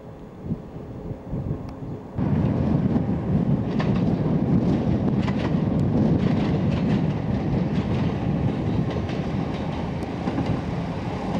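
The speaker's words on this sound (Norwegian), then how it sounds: "Jernbanestasjonen." A train at a railway station on the Arendal line on a windy April day, starting with quieter rumble and then a loud, steady rolling clatter of wheels on rails.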